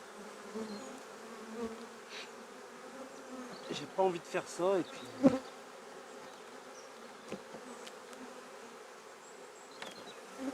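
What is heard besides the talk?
honey bees buzzing at a hive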